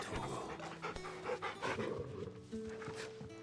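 A pet dog in the video game Final Fantasy 16 pants steadily and close-up for a few seconds, with soft game background tones underneath.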